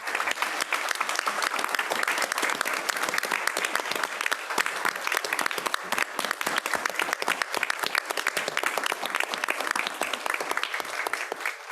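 A school board meeting audience applauds teachers, a dense, even wash of clapping from many hands that holds steady and loud for the whole stretch.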